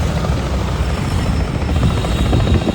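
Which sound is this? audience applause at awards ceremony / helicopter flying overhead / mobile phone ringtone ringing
helicopter flying overhead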